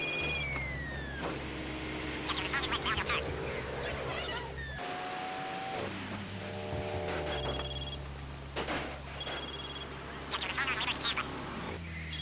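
A payphone rings in GTA 3 as repeated electronic telephone bell bursts over a low engine hum and game ambience, with quacking-like tones between rings.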